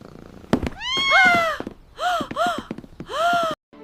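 A cat gives several loud, wailing meows in close succession, near and alone, as though its tail had been stepped on.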